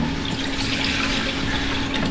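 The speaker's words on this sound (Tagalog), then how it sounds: "Tapos lagyan na lang natin ng tubig." Water pours steadily into a pot of cooking broth in a home kitchen, a continuous close splashing and gurgling stream that runs unbroken throughout with no talking.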